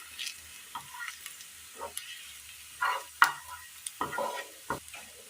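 Sautéed onions pushed aside in a pan for a Kerala curry, with scattered scraping stirs and soft sizzling, a few sharper clacks of the utensil against the pan, close and alone without talk.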